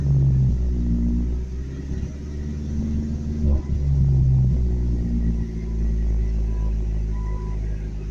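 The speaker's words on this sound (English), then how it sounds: "Why am I backfiring?" A faulty truck that struggles to start and dies in reverse rumbles low and close, its engine note rising and falling, with one or two short sharp pops breaking through.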